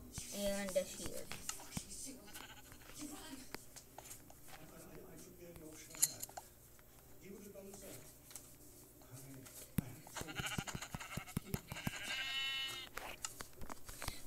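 Blocky Minecraft sheep bleat in short nasal calls amid game sounds, with a person talking over them, the bleats popping up a few times across the scene.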